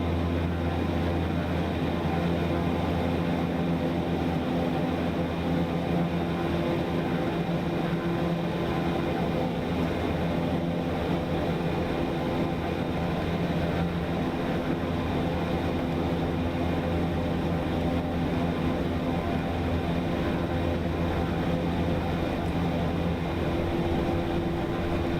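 A Beechcraft Starship turboprop in Microsoft Flight Simulator gives a steady, loud, droning engine roar with strong tonal hum that holds evenly throughout takeoff, with no talking.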